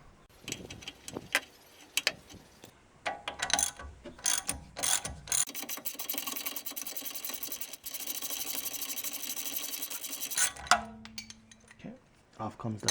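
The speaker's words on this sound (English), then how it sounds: "I'm using a 7/8 socket on here with a breaker bar." A 7/8 socket on a breaker bar loosens a tie rod castle nut on a Toyota Tacoma 4x4, giving close metallic clicks and clinks, then a sustained grinding, ratcheting rattle that cuts off abruptly.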